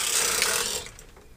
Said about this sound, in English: as the carriage passes over, it will wrap automatically around the needle.